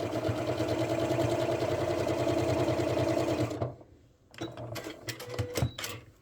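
Sewing machine basting the layers of a V-neck sweater, a close, rapid rhythmic stitching chatter for several seconds that stops, followed by light handling clicks.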